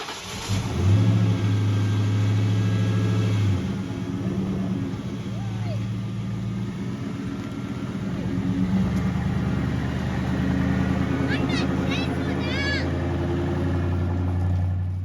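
A Ford Mustang pulls away in a steady low engine drone that rises as it accelerates off, heard up close outdoors with some faint background sounds.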